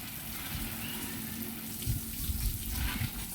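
Water splashes and patters steadily, like a hose spraying onto plants and soil, with a few heavier gushes toward the end.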